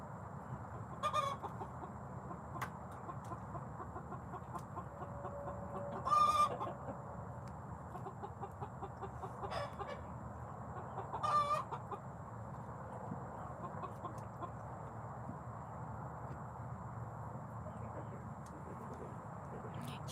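Chickens in a coop at night give a few soft, scattered clucks and short calls, fairly faint and spread across a quiet, steady background hum.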